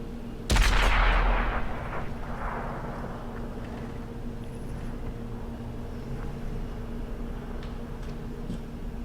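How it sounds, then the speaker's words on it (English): A tank gun firing a high-explosive shell in the World of Tanks video game: one loud booming shot with a long rumbling decay, then quieter distant battle ambience with faint ticking. "The T-29 is also firing HE."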